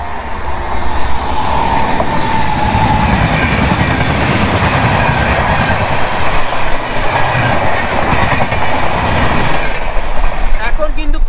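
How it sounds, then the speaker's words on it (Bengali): Vande Bharat Express train rushing past close by, a loud continuous roar with rhythmic wheel clatter and rumble throughout, heard alone without talk. "ক্রস করছে বন্দে ভারত এক্সপ্রেস"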